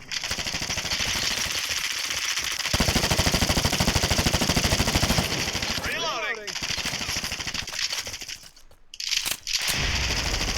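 Sustained rapid automatic gunfire from the Fire Front mobile shooter game, loud and dense bursts with brief breaks and scattered single shots, with a voice occasionally speaking over the combat.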